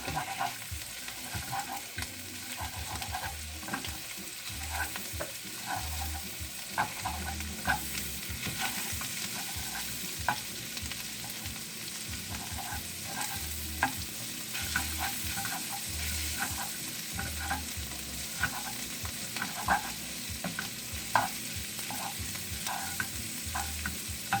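Chorizo and eggs fry and are stirred in a pan, a steady crackling sizzle broken by frequent scrapes and light taps of the spatula.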